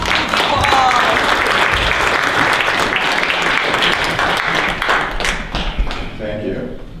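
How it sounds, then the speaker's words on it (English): An audience applauds loudly and steadily at a live magic show, dense clapping filling the room before thinning out near the end. "Give her a round of applause,"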